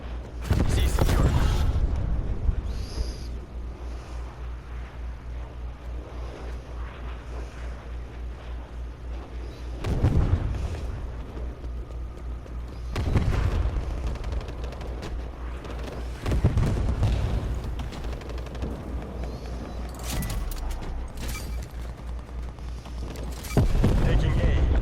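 Artillery shells land in a video game as a string of heavy booms, each a deep thud swelling and fading, spaced a few seconds apart over a constant low rumble of battle ambience.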